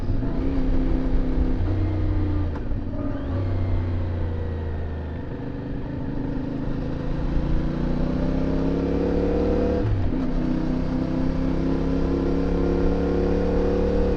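A CF Moto 450MT motorcycle on alpine mountain roads, its engine close and loud as it accelerates through the gears, each upshift dropping the rising drone before it climbs again, over steady wind rush.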